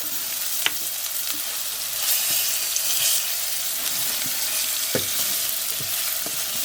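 Risotto rice sizzling as it is stirred and toasted in hot oil in a pan, a steady loud frying hiss with occasional scrapes and taps of the spoon, close and uninterrupted by speech.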